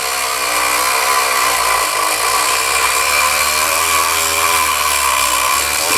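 The loading port of a Stoeger M3000 shotgun is sanded with 180 grit, a loud, steady, unbroken whirring grind that holds at the same level throughout.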